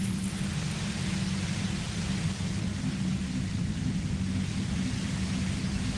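Dense, violent white noise droning near a compressor in the video game Disco Elysium, a steady loud hiss with a heavy low rumble, constant and unbroken throughout.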